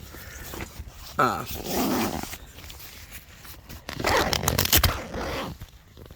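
Zipper on a hammock shelter door being drawn open and closed, a couple of scratchy raspy pulls with rustling fabric between them, close and fairly loud, with no talk.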